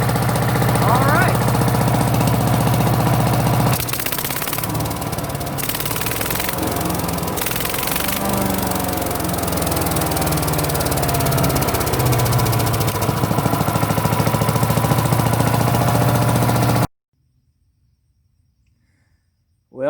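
A wood chipper's small engine runs steadily and loudly after a carburetor repair, with a rough, knocking idle, then stops abruptly near the end, leaving near silence.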